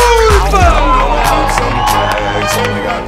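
A theater audience at a comedy festival cheers and whoops loudly as a comedian is welcomed onstage, a dense roar of crowd voices with scattered shouts, close and sustained throughout.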